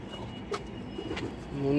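Pigeons at a pigeon tournament coo softly in a couple of short low calls amid background murmur and handling noise, fairly near and faint.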